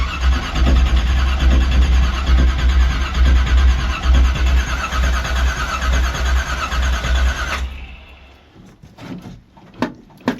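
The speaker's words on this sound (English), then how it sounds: "Pump it a couple times and let's see what happens." A 1984 Camaro Z28 with a 350 V8 on a cold start, a loud steady engine rumble running for several seconds before cutting off, followed by a few faint clunks and knocks.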